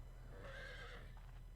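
In Final Fantasy XIV, a horse gives one short whinny, faint and somewhat distant, over a low steady background hum.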